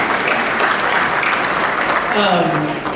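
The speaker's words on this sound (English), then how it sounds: "Let's clap." Audience applause at an awards celebration, a dense continuous wash of clapping with voices mixed in, fairly loud and close, tapering at the end.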